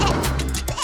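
A cartoon baby goat gives a short, loud bleat lasting under a second, close and alone with no talking.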